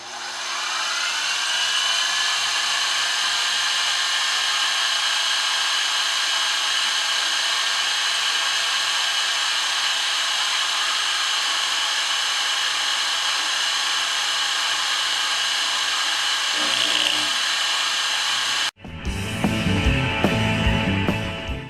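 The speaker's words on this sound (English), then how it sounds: "I'm going to mill that down." A milling machine runs steadily while cutting down a metal beam for an Elmer Verberg beam engine, a continuous high whining hum that holds for most of the time, then stops abruptly before a rougher clattering burst of machining near the end.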